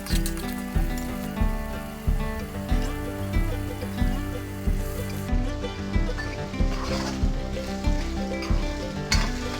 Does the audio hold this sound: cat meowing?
no